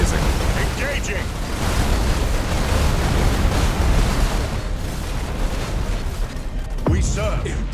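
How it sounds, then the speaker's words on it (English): Rapid ship gunfire in the Warhammer 40K space battle game Battlefleet Gothic Armada 2, a dense continuous roar of booming shots and blasts running throughout, with brief voices breaking through near the end. "The hail of gunfire coming from this ship is amazing"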